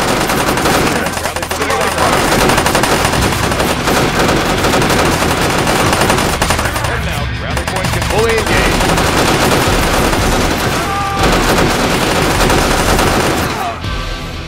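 Dense, loud gunfire from a military shooter video game, with rapid machine-gun bursts continuing almost nonstop and faint game voices underneath.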